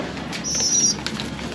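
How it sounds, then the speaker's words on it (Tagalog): Young pigeons flap their wings near a loft landing board by a cage trapdoor in the late afternoon, a short close flurry of fluttering with a brief high whistling streak. "i-viewing natin mga ibon natin dyan sa landing board"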